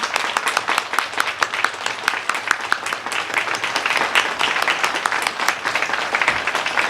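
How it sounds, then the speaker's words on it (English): Loud, sustained applause from a crowd at a Veterans Day ceremony, dense clapping that continues steadily for several seconds without talk. "Let's give these brave individuals a round of applause, people."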